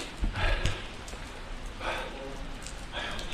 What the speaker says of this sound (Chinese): 今天是淋雨，浑身湿透的又一天